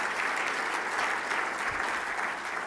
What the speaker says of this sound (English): I just want to say thanks and a round of applause again.